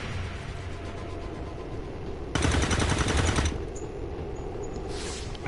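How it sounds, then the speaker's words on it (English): Heavy automatic gunfire in the XCOM 2 video game, a dense sustained burst that swells loudly for about a second over a constant rumbling battle ambience, then recedes. "There's heavy fire in the zone."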